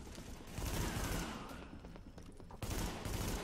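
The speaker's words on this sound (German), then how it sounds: "Also was explodiert hier die ganze Zeit, meine Fresse?" Sustained heavy gunfire and explosive blasts in The Division, a shooter set in Madison Square Garden, form a loud continuous fusillade that dips briefly and then surges again with a sharp new burst.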